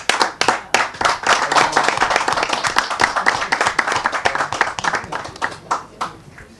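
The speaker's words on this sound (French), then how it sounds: "applaudissez s'il vous plaît." Audience clapping in a hall at a Paris conference, dense, bright and fairly close, with claps starting abruptly, holding steady for several seconds and thinning out to scattered hand claps near the end; a faint voice sits underneath.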